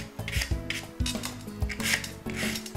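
A polishing block buffs the surface of a gel nail tip in a series of rhythmic, close rubbing strokes, about six short raspy passes with brief gaps between them.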